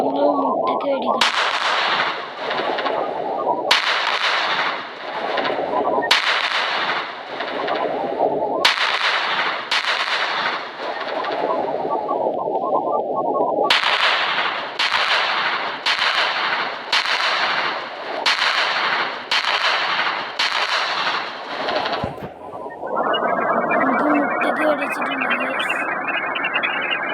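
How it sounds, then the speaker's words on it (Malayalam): Gunfire in a dinosaur video game, shooting at an egg, comes as repeated loud, sharp bursts in rapid clusters separated by brief pauses, ending in a steadier rumbling tone. "നമ്മൾ മുട്ടക്ക് വെടിക്കണം."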